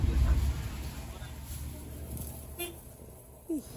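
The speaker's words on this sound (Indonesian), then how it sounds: "Lucu klaksonnya bos." Horn of a Haryanto bus in traffic, giving a couple of short, quirky toots, brief and moderately near, amid road rumble and faint background talk.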